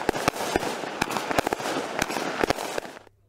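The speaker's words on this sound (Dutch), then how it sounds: "Een vuurwerkbatterij zoals de Maximum Potential steek je één keer aan," A Maximum Potential fireworks battery going off after a single lighting, firing a rapid, irregular series of loud close bangs and crackles for about three seconds, then stopping abruptly into quiet.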